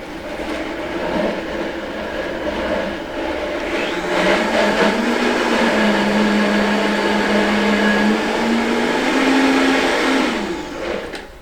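A blender processes spinach, basil, pine nuts, cheese and olive oil into pesto, giving a loud, steady motor whir that rises and shifts in pitch as the blades churn the thick mixture.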